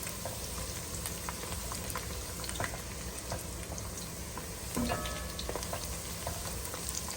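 Onions frying until brown in a pot for chana pulao, a steady low crackle and bubbling sizzle with occasional small clinks, close and quiet, no voices.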